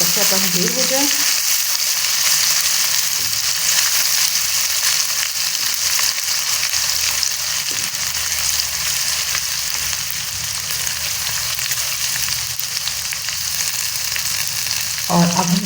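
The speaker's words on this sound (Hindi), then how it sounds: "और अब हम शामिल करेंगे अदरक और मिर्ची का पेस्ट और इसको हम भून लेते हैं ताकि इसका कच्चापन दूर हो जाए।" Ginger and chili paste frying in a pan while making vegetable pulao, a loud, steady sizzle with occasional stirring scrapes, continuous throughout.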